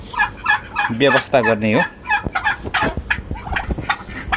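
Turkeys on a Nepali turkey farm gobble close by in several rapid, warbling bursts, with someone speaking briefly amid the calls.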